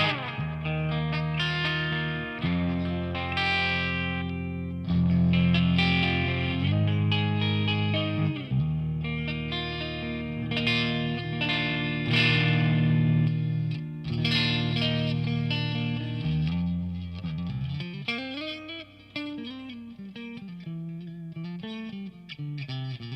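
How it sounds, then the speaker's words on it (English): Vox AC30C2 amp with a PRS Mark Holcomb guitar, chords and single-note lines washed in TC Electronic Alter Ego tape-mode delay repeats and amp reverb, steady and fairly loud with no voices. "I'm running the TC Electronic Alter Ego in like the tape mode through the loop, and then this is just the amp reverb"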